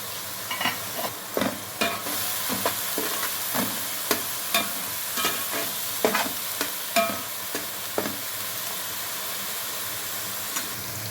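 Cinnamon, cloves and cut green chillies fry in oil for a raw fish curry, giving a constant sizzling hiss. Regular scraping stirs and clicks sound close by, and no one speaks.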